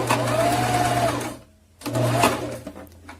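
Sewing machine stitching an invisible zipper, running in two loud motor bursts with a short pause between, backstitching at the end of one side.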